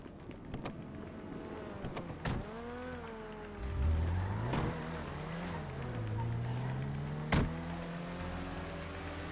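A car driving in GTA 5, engine droning and rising in pitch as it accelerates, with a couple of sharp knocks and a steady road rumble underneath.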